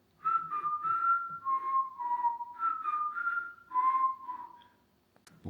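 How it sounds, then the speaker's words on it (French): A person whistles a short, steady melody of sustained notes with brief breaks, close and clear, ending with a faint click. "je sais pas trop siffler"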